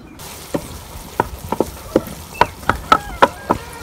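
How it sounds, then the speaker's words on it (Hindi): Finely chopped onions frying in a pan under a soft sizzle, punctuated by a series of sharp clinks and scrapes from stirring, irregular and close. "इधर प्याज फ्राई हो रहे हैं"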